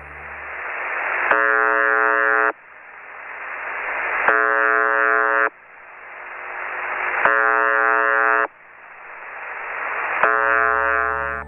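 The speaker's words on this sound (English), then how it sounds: "a shortwave radio station that broadcasts a short, monotonous buzz tone" A harsh, monotonous radio buzz tone repeats four times at steady intervals, each short burst separated by hissing static that slowly swells.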